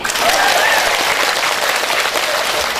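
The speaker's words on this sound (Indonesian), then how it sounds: "Tepuk tangan dulu ibu" A crowd at a large Islamic religious gathering bursts into loud, close applause, a dense continuous roar of many hands clapping at once that holds steady throughout with a few raised voices mixed in.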